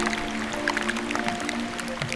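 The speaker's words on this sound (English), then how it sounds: "All these little clicks that you hear are caused by air bubbles escaping from the melting ice that surrounds us." Dense crackling clicks and pops from air bubbles escaping melting glacier ice at LeConte Glacier, a steady underwater fizz with faint tonal hums beneath.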